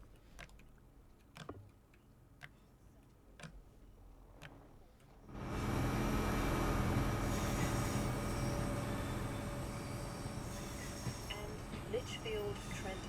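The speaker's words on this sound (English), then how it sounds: "we got a couple trains coming in at once" Trains rolling into a station on the Birmingham to Crewe West Coast Main Line in the Train Sim World 6 game. Quiet ticking ambience gives way to a loud, sustained rumble of rolling stock and wheel noise that carries on to the end.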